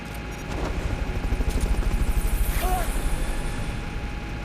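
Helicopter from the video game Metal Gear Solid: Peace Walker, a steady rhythmic rotor chop with a low throbbing pulse that starts within the first second and holds loud and close to the end.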